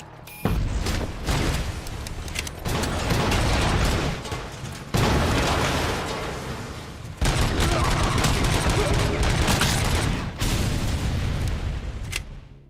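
Sustained full-auto gunfire in RoboCop: Rogue City, loud dense bursts of rapid shots broken by brief pauses across several long volleys, with booming impacts and no talking.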